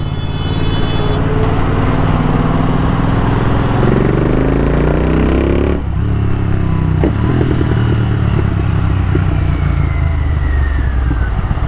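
Royal Enfield GT 650 twin engine runs loud and close, idling with a steady throb, then revving up and dropping back, with clatter and passing traffic around it.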